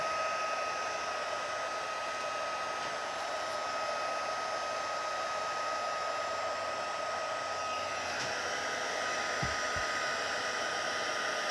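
A heat embossing tool blows a steady, even whoosh of hot air close by for the whole stretch while embossing powder is melted on a stamped tree for a handmade card.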